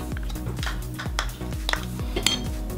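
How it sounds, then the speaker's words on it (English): A spoon stirs Greek yogurt coleslaw dressing in a small bowl, scraping and clinking against the sides in quick repeated strokes close up, with no voices. "you're just going to mix all this into a little bowl at first"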